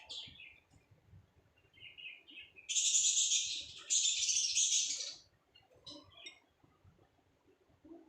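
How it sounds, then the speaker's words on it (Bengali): Small pet birds chirp and tweet in quick, bright bursts, with a louder stretch of dense twittering in the middle, fairly close by. "আমার পাখি কিচির মিচির করছে ওদের ডাক শুনতে আসলে অনেক ভালো লাগে"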